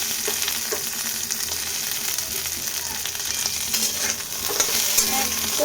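Cashews frying in a pan on a low gas flame for payesh, a continuous close crackling sizzle with faint stirring clicks scattered through, no talk.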